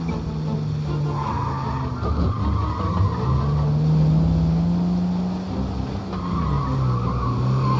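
A car skidding and wrecking in the crime game Mafia, with a steady engine drone and sliding tire noise running throughout, rising slightly midway, no voices.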